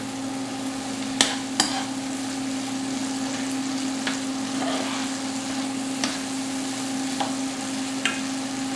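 Green pepper strips frying in coconut oil give a steady, even sizzle, with a few sharp clicks of a utensil against the pan scattered through it; no voices.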